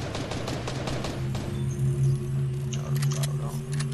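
Rapid bursts of gunfire in Fortnite crackle in quick succession, then fade into a few scattered shots over a low steady hum.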